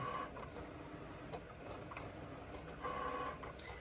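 An inkjet printer prints an image onto a sheet of letter paper, giving a steady mechanical whir with faint ticks and short tonal whines from the carriage as it moves back and forth, close and alone.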